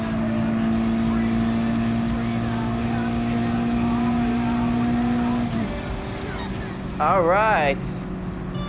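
A Mazda Roadster engine hums at a steady pitch during a Gran Turismo Sport race, then drops off as the car lifts, followed by a brief wavering tire squeal; someone speaks over it.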